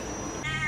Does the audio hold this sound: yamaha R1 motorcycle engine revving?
no